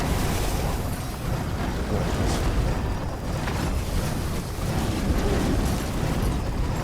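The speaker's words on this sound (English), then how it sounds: "that was two big explosions" Two big explosions go off in the video game Achilles Survivor, heavy rumbling blasts merging into a loud, sustained roar with no voices over it.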